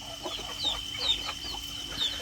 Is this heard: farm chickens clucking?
yes